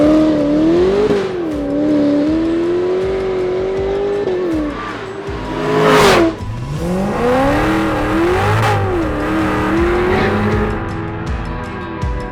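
A new Pontiac Trans Am with a 400 H.O. V8 being broken in runs loud and close, rising and falling through several revs with a sharp surge midway before settling back to a steady rumble.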